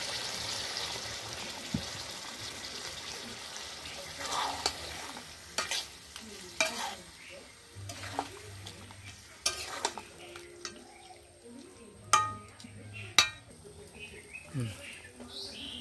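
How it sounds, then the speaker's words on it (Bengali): Village-style desi chicken simmers in a little water while being stirred, giving soft bubbling and intermittent scraping knocks of a spoon against the pot, with faint bird chirps and brief low voices in the background. "এবার আমি একটু জল দিয়ে সেদ্ধ করতে দেব, খুব বেশি দেব না, অল্প দেব।"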